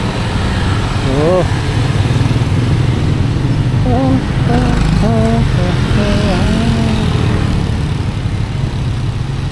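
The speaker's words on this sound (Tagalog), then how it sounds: "mga bata dito magpatakbo ng motor" Motorcycles with open pipes, ridden by helmetless kids on a night street in Isabela City, Basilan, give a loud, continuous engine drone close by, with people talking over it.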